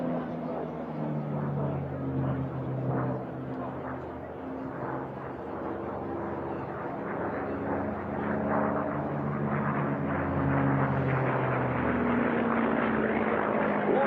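A piston aircraft at an unlimited-class air race drones past with a continuous, loud propeller and engine roar that swells slightly, while a commentator talks over it.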